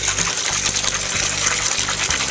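Tap water runs at low pressure into a sink while liquid dish soap is being made, a steady broadband gush with a faint rhythmic pulsing, close and alone with no talk.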